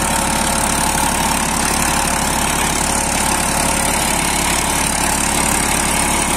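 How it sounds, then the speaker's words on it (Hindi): A new Massey Ferguson 244 DI Dynatrack 4x4 tractor engine idles steadily and loudly up close, a continuous low rumble with no pauses and no voices. "झटके मार मार के दोस्तों चल ही रहा है ट्रैक्टर"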